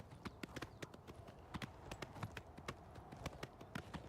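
Horse hooves clip-clop quickly and evenly in Oblivion Remastered, a brisk rhythmic patter of sharp hoof strikes close by, with no talking.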